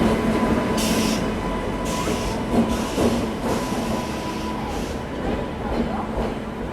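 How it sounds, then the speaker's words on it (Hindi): The 12561 Jaynagar–New Delhi Swatantrata Senani Superfast Express pulls into a station platform: a steady low rumble of rolling coaches with faint wheel squeals and clatter, under station ambience and nearby voices. "यहाँ बिल्कुल ऑन टाइम आ चुकी है 12561 जयनगर न्यू दिल्ली स्वतंत्रता सेनानी सुपरफास्ट एक्सप्रेस।"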